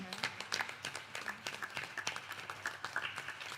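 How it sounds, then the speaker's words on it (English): Scattered applause from a small audience at a Ram Mandir temple anniversary gathering in Mississauga, a soft, uneven patter of claps with a faint murmur underneath. "Marisha, give a big round of applause to her."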